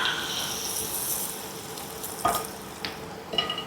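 Chopped green chillies sautéing in a pan give a steady soft sizzle, with a few brief scraping stirs near the end, close and moderately loud with no talking.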